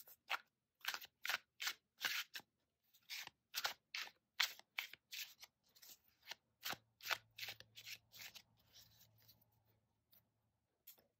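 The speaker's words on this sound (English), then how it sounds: "we'll begin with a quick shuffle." Tarot cards are shuffled in quick, crisp riffles, a rapid run of short papery slaps and flutters, close and quiet with no talking.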